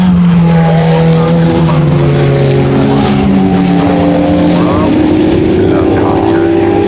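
A Ferrari Challenge race car roars past on the circuit during 2019 qualifying, its loud engine tone sweeping in pitch as it goes by, with commentary voices underneath.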